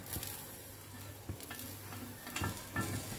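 Tomatoes frying with roasted coconut in a pan, a soft, low sizzle with several light stirring scrapes and taps of a spoon against the pan, close but quiet.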